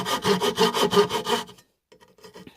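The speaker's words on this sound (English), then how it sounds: "I'm just making these relief cuts with the pull saw. You can hear it doing it in real time." A pull saw rasps rapidly back and forth making relief cuts in timber in quick, even strokes, close and clear, then stops abruptly, leaving faint scraping and handling noises.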